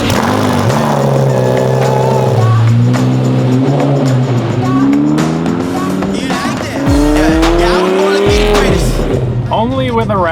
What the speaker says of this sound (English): Cold start on the Lambo.